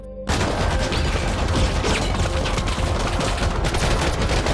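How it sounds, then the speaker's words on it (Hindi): Dense, loud gunfire from a film bursts in after a brief silent moment and carries on as continuous overlapping rapid shots and rattling volleys. "वे उस पर फायरिंग करने की कोशिश करते हैं लेकिन नाकामयाब रहते हैं"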